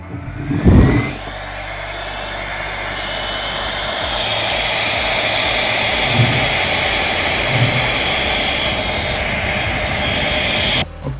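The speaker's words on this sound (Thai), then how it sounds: "เสียบเข้ากับพัดลมดูดควันของเรา" A 12V smoke extractor fan powered from a lithium battery pack, starting with a thump and then running as a loud, steady whooshing whir that holds nearly unchanged before cutting off abruptly.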